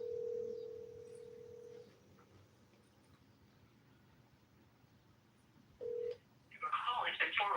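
Telephone keypad tones sound on a voicemail system, with a long beep near the start and a short one later, faint over quiet line hiss, followed by a burst of brief voice-like sound at the end.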